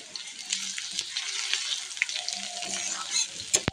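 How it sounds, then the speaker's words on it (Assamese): Chicken with crushed garlic and ginger frying in a pan, a continuous close sizzle with occasional stirring scrapes and clinks, no speech. "মিক্স কৰি অকণমান ভাজিম।"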